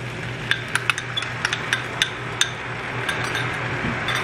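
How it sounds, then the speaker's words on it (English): A spatula stirs shrimp fried rice in a pan, producing light, irregular scraping clinks over a steady background hum. "And now we'll mix everything well together and cook this for another 2 minutes."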